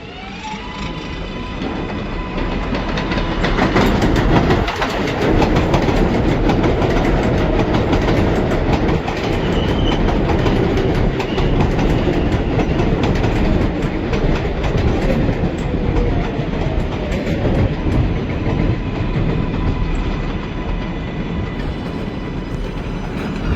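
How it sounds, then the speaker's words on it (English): A New York subway 7 local train on the IRT Flushing Line runs through 40th Street station at rush hour, a loud, continuous rumble with wheel clatter and faint squeals lasting the whole stretch. "There is a Local 7 train to"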